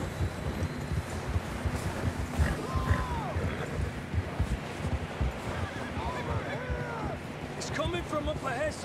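Horses neigh and whinny a few times in the video game Red Dead Redemption 2, over a noisy outdoor bed of wind and hoof clatter, with an occasional voice underneath.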